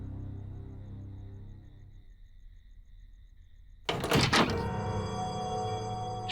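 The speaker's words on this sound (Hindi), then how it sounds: "दरवाजा बंद कर दो।" A door is pushed shut with a single solid thunk partway through, following a quiet lull, and a lingering ringing tone trails after the impact.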